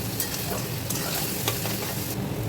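Vegetables sprinkled with salt and stir-fried in a pan for egg-and-vegetable chowmein: dense, loud sizzling throughout, with a few bright scraping strokes of a spatula and no voices.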